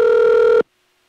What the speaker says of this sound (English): It rang too much.